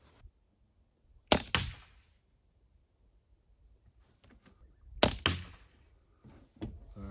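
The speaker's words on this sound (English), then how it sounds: "So I'll put a second shot in there." Two sharp, loud rifle cracks a few seconds apart on a farm, shooting at rats, each ringing out with a short echo, separated by near silence.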